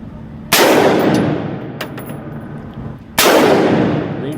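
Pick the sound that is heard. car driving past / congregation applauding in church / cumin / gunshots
gunshots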